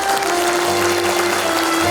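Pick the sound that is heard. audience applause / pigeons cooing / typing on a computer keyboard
audience applause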